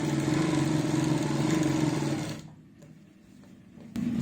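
A sewing machine runs steadily while stitching the edge of a salwar, its fast motor whir continuous for about two and a half seconds before stopping, then faint handling clicks follow in the quiet.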